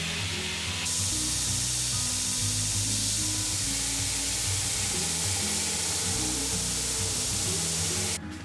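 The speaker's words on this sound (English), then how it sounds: "Cool that it'll run the belt grinder" A belt grinder powered from a Dabbsson DBS2100 PRO power station runs at slow speed, a steady loud motor and belt hum with a low rumble, continuous throughout and alone, ending abruptly at the close.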